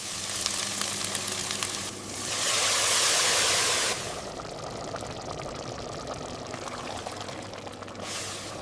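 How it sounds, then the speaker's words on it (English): Water pours in a bright, rushing burst for about two seconds while rinsing rice, then a second pour begins near the end, over a low background hum. "Rinse the rice thoroughly until the water runs clear."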